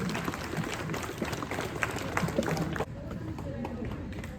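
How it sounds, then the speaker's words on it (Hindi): An audience applauds for Khushi at an annual result ceremony with dense, sustained clapping. A voice speaks over it, and the clapping thins out near the end. "जोरदार तालियां खुशी के लिए,"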